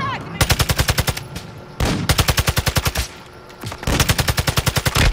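Rapid automatic gunfire from a Call of Duty match plays in three loud sustained bursts with short gaps between them, each burst a steady stream of sharp, closely spaced shots.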